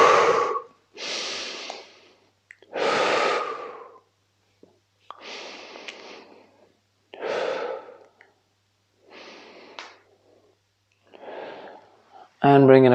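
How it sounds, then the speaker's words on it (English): Slow, deep yoga breaths drawn in and let out in long audible waves, about seven close-up inhales and exhales separated by short quiet pauses. "now we're breathing into the opposite side."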